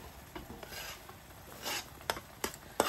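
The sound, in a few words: stirring tuna pasta bake with broccoli in pan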